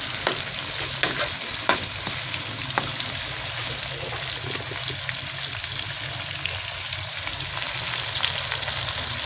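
Meat and onions frying in a pot for yakhni pulao, a soft continuous sizzle with occasional sharp clicks of a spoon stirring, fairly quiet and steady throughout.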